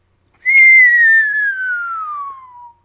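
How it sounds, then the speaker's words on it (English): A single loud, piercing whistle slides slowly downward in pitch for about two seconds, clear and alone against silence. "That was a sucking in whistle."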